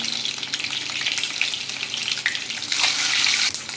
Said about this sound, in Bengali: এবার ডিমটাকে একটু ভেজে নেব প্রথমে লাল লাল করে।